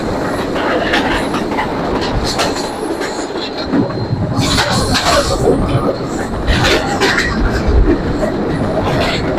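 A passenger train on the Natore to Hili line in Bangladesh rumbles steadily along the rails, with rhythmic clickety-clack of wheels and occasional squeals, loud and continuous throughout.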